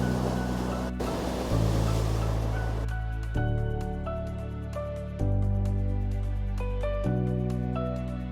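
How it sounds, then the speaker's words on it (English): Lake waves rolling in at Humber Bay in Toronto during a heavy snowstorm, a continuous washing surf with wind noise, partly covered by loud music playing nearby. "look at some of these waves"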